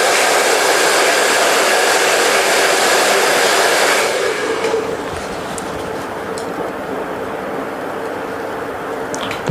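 During an in-turn blow dry for a razor or feather haircut, a hair dryer roars loud and close for about four seconds, then drops to a softer, steady whir.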